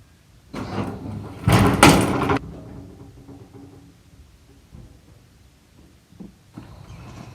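A cover on a Bucyrus-Erie 10B excavator, closed with a rubber flap, is pulled open. It makes a loud scraping clatter and bang early on, followed by quieter scattered clunks and knocks nearby.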